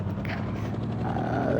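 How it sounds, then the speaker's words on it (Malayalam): Helicopter taking off in the mobile game Indian Bike Driving 3D: a steady, dense rotor and engine drone with a thudding low pulse, rising slightly in pitch and loudness toward the end. "നമുക്ക് ആദ്യം മുതൽ തന്നെ ഹെലികോപ്റ്റർ എടുക്കുക"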